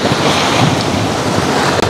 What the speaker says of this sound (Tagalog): Sarap pakinggan, yung tunog ng alon ba?